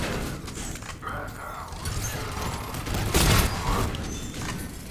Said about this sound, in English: Oh, that's a turret.